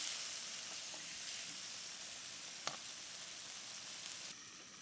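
Chicken frying and sizzling in a pan for a village-style chicken chakori breakfast, a steady close hiss throughout with a brief sharper crackle midway.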